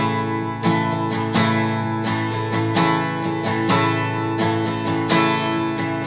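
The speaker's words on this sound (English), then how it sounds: "And your strumming pattern, the basic pattern you can use to get around in this song sounds like this." Acoustic guitar strummed in a steady down-up pattern for a worship song, with bright full chords ringing and regular accented strokes, close and clear with no talking.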